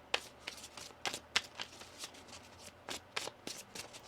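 Tarot cards being shuffled by hand, a run of crisp papery riffles and slaps in an irregular rhythm, close and fairly quiet with no talking.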